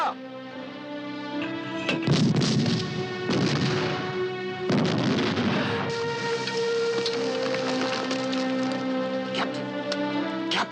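Artillery fire in a 1969 war movie battle scene at El Alamein, repeated heavy booming blasts and crackling explosions over a dense, sustained rumbling background with tonal film score, loud and close.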